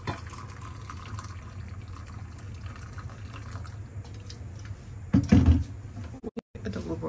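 About one and a half cups of hot water pour out near the end as a short, uneven splash of liquid that follows a steady background hum.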